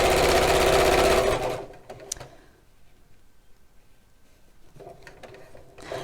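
A sewing machine stitches fabric in a loud, fast, steady whirring run for over a second, then stops, leaving quiet handling clicks before a soft restart near the end.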